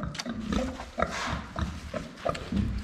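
Pigs grunt and snort in short, irregular bursts close by, with a few squealing notes among the low rumbling noises, four pigs being moved to an old pigsty.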